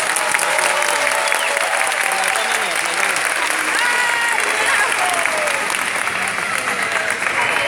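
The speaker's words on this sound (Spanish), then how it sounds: "todos un fuerte aplauso para estos niños." An audience applauds children who play guitar at a music-initiation performance, a dense, steady wash of clapping throughout with voices faintly mixed in.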